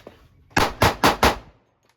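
A Glock 20 pistol with an extended magazine fires four rapid, loud, evenly spaced shots, then falls silent.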